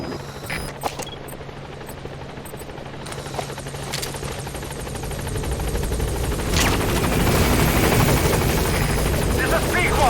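Pequod helicopter from Metal Gear Solid 5 flying in to a landing zone, a steady rotor thrum that swells louder toward the end, with some gunfire and radio voices in the mix.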